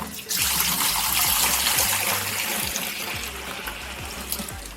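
Red grape juice, pure and with a few grape particles, pours steadily into a container for homemade red grape and apple wine, a continuous close trickling splash after a brief start, with low knocking underneath.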